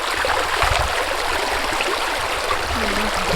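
A year-round forest stream flows in a steady, close wash of rushing water that fills the whole stretch without breaks or voices.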